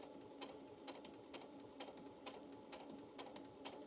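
A sewing machine stitching pumpkin-harvest quilt pieces runs in steady, evenly spaced bursts, about two per second, at moderate loudness over a constant motor hum, with no talking.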